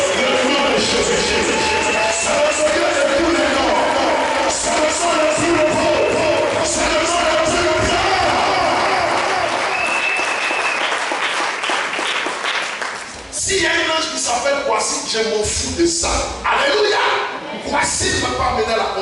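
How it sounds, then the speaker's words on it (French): A church congregation cheering and clapping, loud and sustained for the whole stretch, with shouts and whoops mixed into the applause and voices rising over the crowd noise. "Je veux qu'on acclame le nom supérieur."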